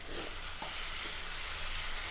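Prawns frying in a pan with a steady sizzle, broken by a few soft scrapes of stirring, close up and without any talk.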